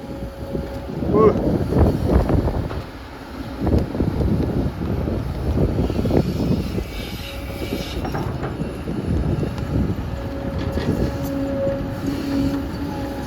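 A strong wind buffets the microphone with a loud, continuous low roar at an earthmoving site where a Kato HD820-R5 excavator loads a ten-wheel dump truck, and machinery rumbles underneath.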